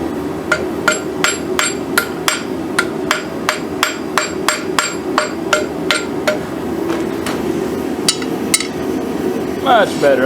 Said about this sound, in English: we're going to hammer it over in alignment a little bit more